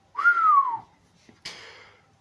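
A man whistles in imitation of a fantasy game character, a clear rising then slowly falling tone, followed after a short gap by a brief breathy airy burst, close and moderately loud.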